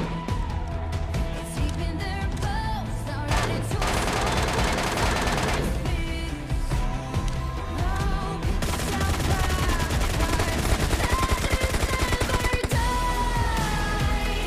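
Full-auto fire from an MK14 rifle in the mobile shooter PUBG Mobile Lite, with sustained dense gunfire bursts alongside game effects and music-like tones, loud and continuous.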